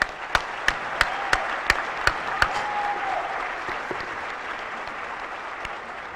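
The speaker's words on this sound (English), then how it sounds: "let's give a round of applause for everyone that enlisted in the military" Audience applause at a senior awards night for students who enlisted in the military: steady crowd clapping with a few sharp, louder claps near the front early on, fading gradually toward the end.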